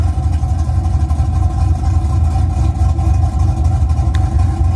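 A car engine idles on a cold start through an aggressive aftermarket exhaust before modification, a loud, steady, rumbling drone with slight fluctuations, close by and alone without voices.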